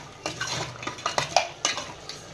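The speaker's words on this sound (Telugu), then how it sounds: "తర్వాత ఈ అల్లం వెల్లుల్లి పేస్ట్ ముక్కలు పట్టేలాగా మంచిగా ఇలా కలుపుకోవాలి" Ginger garlic paste stirred into a pot of mutton curry, a spoon scraping and clinking against the pan in a run of short, fairly close knocks with no talk.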